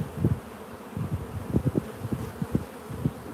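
Honey bees buzz around an open hive during an inspection, a close, continuous drone that swells in short uneven pulses as individual bees pass near, with no speech.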